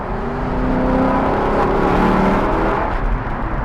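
A 2021 Lexus LC500 Convertible's V8 engine in normal mode revs and pulls with a deep, sustained roar. The engine note swells smoothly and stays loud and close for several seconds.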